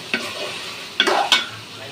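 Fried potatoes stirred into browned meat in a pan, a few short scraping stirs with light sizzling between them, close and fairly loud.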